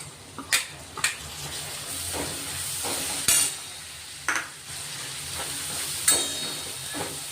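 Chopped tomatoes go into onions already sautéing in hot oil for a drumstick curry, giving a continuous sizzle broken by sharp utensil clinks and stirring scrapes against the pan.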